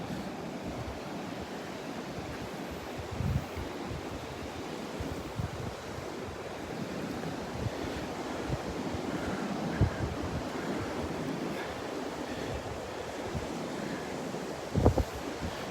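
Ocean surf washes onto the beach at Delnor-Wiggins on a cold Christmas morning, a steady broad roar of breaking waves mixed with wind buffeting the microphone, with a few soft thumps.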